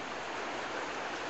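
A calm river flowing steadily near a bridge, a constant broadband rush of moving water with no breaks, moderately loud and alone.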